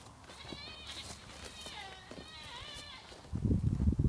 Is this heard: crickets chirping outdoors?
no